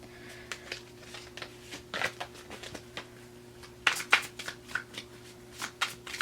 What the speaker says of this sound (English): Sorry, I'm shuffling off camera.